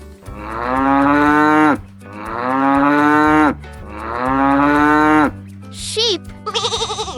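Cow giving three long, loud, drawn-out moos, close up with brief gaps between, followed by a few short higher chirping sounds at the end.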